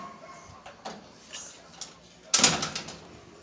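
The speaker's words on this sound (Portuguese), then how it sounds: "abre a porta." A house door being opened: a few soft knocks and handling clicks, then a sharp louder clack and rattle of the latch and door near the end, close by.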